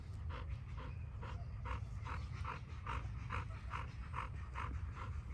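A year-and-a-half-old dog pants close by in a quick, even rhythm of roughly a dozen breaths over a low background hum, with no talking.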